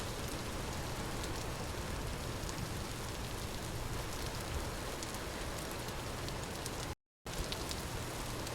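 Steady rain falling in the survival game Vintage Story, a continuous even hiss of drops on surfaces with no voices, holding at a constant moderate level apart from one brief dropout.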